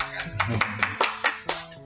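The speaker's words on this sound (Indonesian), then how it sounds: "Kita kasih tepuk tangan dulu buat beliau." A few people clapping for a vitreoretina fellow during an eye hospital webinar in Pekanbaru, a short run of sparse, evenly spaced claps heard close, with faint voices underneath.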